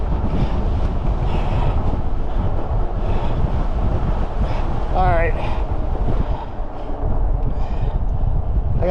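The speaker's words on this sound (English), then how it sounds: "The wind's blowing in our face." Cold headwind buffets the microphone during a ride on a Wallke H9 AWD ebike, producing a loud, constant roaring rush with a brief whistle-like squeak near the middle.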